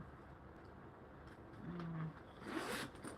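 A quiet zipper being pulled open on a Fossil item, with a short rasping run after a low rumble, heard close against faint background noise.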